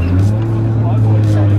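Several drift competition cars idle and rumble loudly at a Queensland drift event, a steady low engine drone with strong harmonics filling the whole moment, with a voice talking over the noise.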